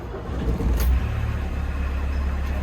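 A 1970s-style Volkswagen Mk1 Kübelwagen-based van engine starts: a brief cranking surge, then a steady low idle rumble close by.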